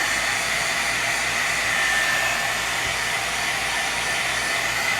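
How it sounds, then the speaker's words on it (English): A heat gun blows hot air over wet paint on a journal cover, producing a loud, steady, unbroken roar from start to finish with no voices. "hit it with the heat gun, and dry this up"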